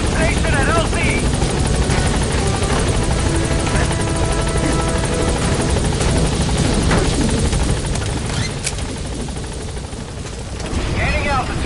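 In Metal Gear Solid V a support helicopter hovers and lands at a landing zone, its loud continuous rotor thrum and engine whine filling the scene, with a brief dip near the end before the noise swells again.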